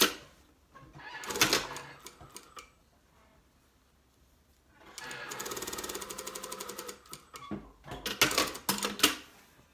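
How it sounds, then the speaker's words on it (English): Sewing machine stitching a collar facing from the neck down, running in short bursts of rapid mechanical needle clatter separated by quiet pauses, close and clear. "So I'm going to sew from the neck down."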